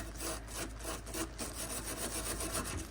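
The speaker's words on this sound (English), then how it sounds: "Then I got a steel brush here as well. I'm just gonna try to, you know, clean off these threads the best I can." A steel wire brush scrubs rusty bolt threads under an Acura TSX during a rear sway bar install, giving a steady run of close, rhythmic rasping strokes with no voices.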